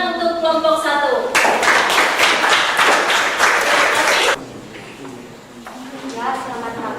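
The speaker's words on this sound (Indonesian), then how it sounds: "beri tepuk tangan untuk kelompok 1" Students in a biology class clap rhythmically for group 1 in a short, close burst of brisk applause lasting about three seconds, with a voice speaking before and after.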